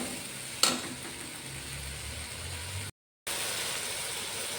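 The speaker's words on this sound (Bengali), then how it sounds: "মশলাটা কষাবো যতক্ষণ না তেলটা ছেড়ে আসছে" Spice paste sizzles in hot oil as it is cooked down for potato curry, a steady, moderate hiss running throughout, with a brief clink near the start and a short dropout just before the end.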